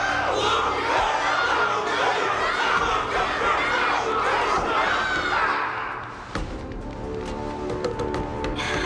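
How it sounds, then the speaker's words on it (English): A loud crowd roars and cheers without a break after a battle in the Honkai: Star Rail video game, then thins to scattered softer cheering near the end. "Can't you hear? Everyone's cheering for you, Luca!"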